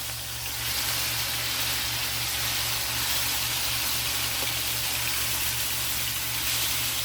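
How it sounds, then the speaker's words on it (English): Chicken pieces sizzle in a hot frying pan, a steady, close hiss and crackle that continues unbroken, with a low electrical hum underneath and no talking. "That's sizzling."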